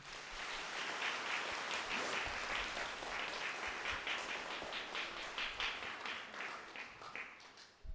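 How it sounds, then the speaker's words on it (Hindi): Church congregation at a Hindi-language satsang at St. John the Baptist Church claps together for the Lord, steady rapid handclaps filling the room for several seconds at moderate volume with no talking. "प्रभु के लिए एक बार ताली बजाएंगे"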